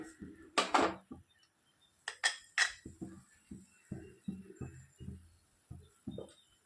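A spoon stirs and scrapes through mango halwa in a pan as mango juice is mixed in, giving a run of close, clinking metal-on-pan strokes in an uneven rhythm, a few louder scrapes at the start, with no talking.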